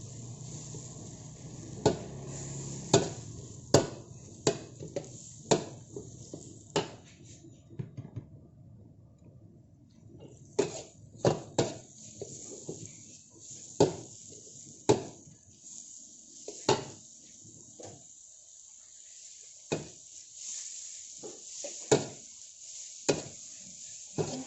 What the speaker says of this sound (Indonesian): Bawang merah, masukkan bawang merah